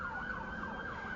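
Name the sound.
sirens outside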